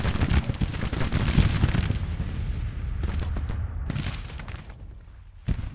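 Dense, continuous gunfire and artillery booms from a Grand Tactician: The Civil War battle, with overlapping musket volleys and heavy cannon thuds rolling on loudly throughout, briefly easing near the end before a final sharp shot.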